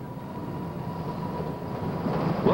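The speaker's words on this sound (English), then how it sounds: "A modern train takes you from Whittier to Anchorage." Steady rumble of a modern passenger train riding between Whittier and Anchorage, Alaska, a continuous rolling drone with a faint squeal building near the end.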